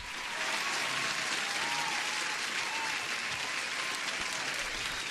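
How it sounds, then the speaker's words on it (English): Dense, steady applause from an audience during a live day-trading stream, loud and continuous for the whole stretch with no break. "Let me give you an applause."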